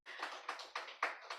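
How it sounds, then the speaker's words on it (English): Audience applause for a speaker at a women and transport conference in Africa, soft steady clapping with a few sharper accented claps, fairly quiet and distant. "you could clap for her"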